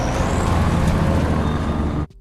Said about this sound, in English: Alexei got hit by a damn trash truck